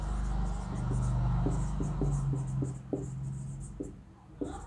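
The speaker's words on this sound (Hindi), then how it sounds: "देखिए मैं लिखता हूँ एग्जांपल" Chalk or marker taps and scratches out an example on a board in an English grammar lesson, a series of short irregular strokes up close over a low background hum.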